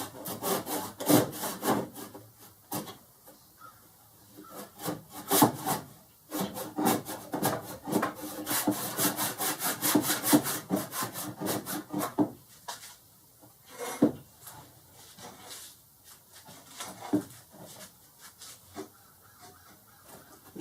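Wood being hand sawn for a fire steel handle, with rhythmic rasping back-and-forth strokes in bursts separated by short pauses, close and moderately loud, without speech.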